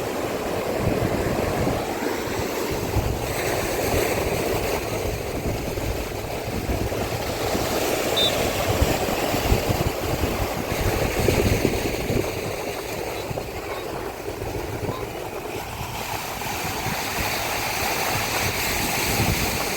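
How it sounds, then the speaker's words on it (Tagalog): Steady roar of strong wind mixed with choppy sea waves sloshing and splashing, loud and continuous throughout, with a faint engine-like rumble underneath, out on a crab-catching trip. "Malakas ngayon ang hangin."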